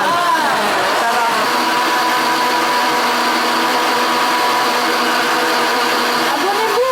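Kitchen blender whirring steadily while mixing a milkshake with added milk, a loud continuous motor drone with a shift in pitch near the end as the load changes, and a voice speaking over it.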